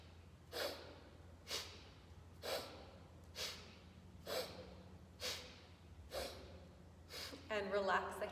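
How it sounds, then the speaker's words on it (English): Breathing exercise with sharp, rhythmic exhales through the nose, about one per second, close and distinct over a quiet hum, followed by a person starting to talk. "as we inhale through the nose, we're gonna reach those arms up, and then exhale, bring them down"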